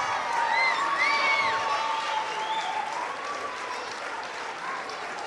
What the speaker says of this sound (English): So if I can have you parents give these coaches a round of applause